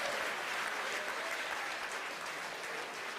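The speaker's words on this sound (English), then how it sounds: "you hear the applause here from SpaceX headquarters in Hawthorne, California" Steady, dense clapping from a crowd at SpaceX headquarters in Hawthorne, California, following stage separation on the HISPASAT 30W-6 launch, an even wash of applause held at constant level with no pauses.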